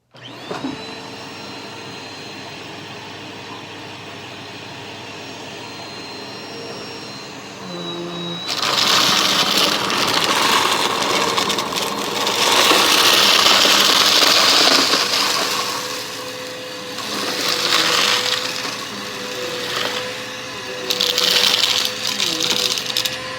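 A Eureka Power Speed vacuum cleaner hums steadily, then surges louder as it sucks up crunchy debris, with crackling and rattling riding over the motor for the rest of the stretch, no voices.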